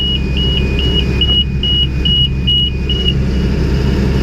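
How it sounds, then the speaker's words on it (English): Electronic alarm in a Stewart and Stevenson vehicle beeps in a steady repeating pattern, about eight short high-pitched beeps over a loud constant engine idle rumble. "put a piece of duct tape over that alarm, it'll be a lot less annoying"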